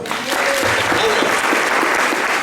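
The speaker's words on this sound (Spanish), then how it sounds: "Un aplauso para el Señor," A church congregation applauds during a Sunday service, many hands clapping in a loud, close, continuous burst with faint voices mixed into the din.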